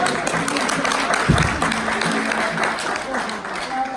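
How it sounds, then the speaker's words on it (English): A group at a Maori chief experience bursts into applause, a dense wash of clapping lasting several seconds with a voice speaking over it. "Give them a round of applause."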